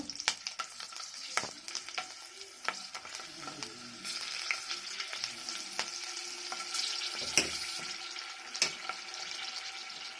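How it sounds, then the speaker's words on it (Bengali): Green chillies and whole cumin fry in hot oil for a snack, a steady close sizzle with occasional sharp pops and scraping stirs, no voices. "তারপর দেবো দুটো কাঁচা লঙ্কা, গোটা জিরে আর কাঁচা লঙ্কাগুলো একটু ভেজে নেবো।"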